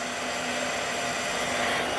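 A spindle on an FMT 5x10 CNC router spins at 5,000 RPM, giving a smooth, steady, continuous whirring hum with no variation over its short span.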